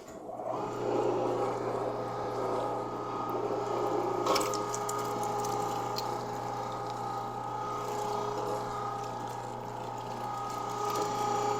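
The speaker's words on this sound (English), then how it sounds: "You can see how it just eats it right up. No problem at all with this meat, with this grinder." An electric meat grinder works through sausage and snack stick meat with a steady low motor hum, mechanical whirring and a brief clatter near the middle, running continuously at moderate level.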